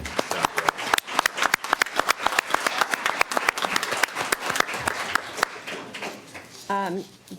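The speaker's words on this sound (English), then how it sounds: "Let's give these athletes just another round of applause." An audience at a Santa Clarita city council meeting claps for athletes, giving sharp, uneven close-up claps that come in bursts, with a voice speaking briefly near the end.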